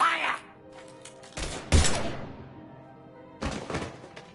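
Gunfire in a video game, with several loud bursts of shots and impacts separated by quieter stretches, close and punchy against a faint background.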